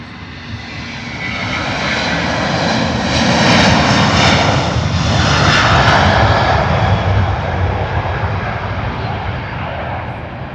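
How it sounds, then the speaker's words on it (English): A Delta Airbus A330 takes off from Heathrow bound for Salt Lake City with a loud, rumbling jet roar that swells to a peak midway, then slowly eases off as the aircraft pulls away. "Here we go, Delta A330 is our next departure off to Salt Lake City."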